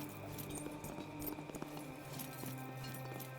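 Horse hooves clip-clop steadily at a walking pace in the Expeditions: Rome video game, faint and set against a continuous droning background of game music and ambience.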